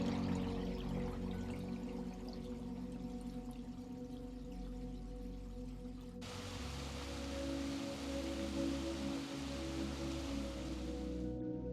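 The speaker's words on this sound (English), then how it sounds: "Listening to the tumbling and bubbling of the river tones." A spring river tumbles and bubbles over its bed, a steady, full rush of water that swells slightly partway through, with a low rumble underneath and no voices.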